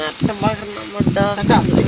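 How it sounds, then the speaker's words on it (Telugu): Chicken pieces hitting a hot pan at a rainy night campsite give a short burst of sizzling and frying, heard under a voice speaking close by. "నేను చికెన్ వేస్తున్నా చూడండి"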